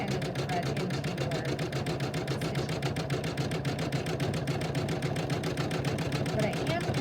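A Janome sewing machine stitches in a fast, even mechanical rattle, close and continuous from start to finish.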